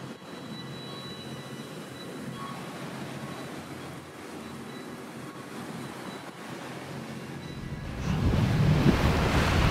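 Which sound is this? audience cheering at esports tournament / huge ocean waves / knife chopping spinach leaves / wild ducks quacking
huge ocean waves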